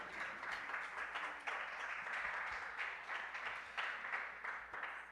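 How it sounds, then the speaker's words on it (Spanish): A church congregation at a Wednesday service claps in welcome for visitors, a dense, sustained round of applause from many hands that carries on steadily without a break. "Nos alegra tanto que te damos un aplauso de bienvenida."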